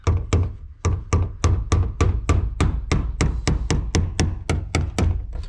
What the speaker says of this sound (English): Always hate it hammering on these rings.